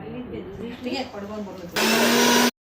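A kitchen mixer grinder switches on and runs with a steady loud whirring roar for about its last second, after a stretch of quieter household background and talk, then cuts off abruptly.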